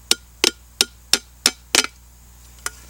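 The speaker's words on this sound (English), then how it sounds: "we need to put a couple of holes in our can using this large nail" A large nail driven into a metal can from the inside to punch holes, about eight sharp metallic knocks in a steady rhythm with a brief double strike, loud and close, then a last isolated tap.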